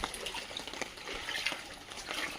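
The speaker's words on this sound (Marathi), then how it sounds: "हे रस्त्यावरचं पाणी घरात उतरते वाड्यामध्ये आमच्या." Flood water from a rain-swollen road spills into a house courtyard in rural Vidarbha, Maharashtra, a steady, close rushing and splashing wash of water that continues without pause and with no speech.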